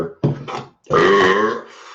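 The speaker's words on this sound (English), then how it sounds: "this stuff does make you burp though" A loud, drawn-out burp close to the mic, preceded by a couple of short grunting gulps, from someone eating Pizza Ranch food.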